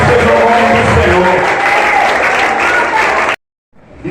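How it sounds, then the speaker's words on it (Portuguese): A standing church congregation applauds loudly during a family Sunday service, a thick, steady roar of clapping mixed with crowd voices that stops abruptly. "fique de pé, aplauda ao Senhor Jesus Cristo"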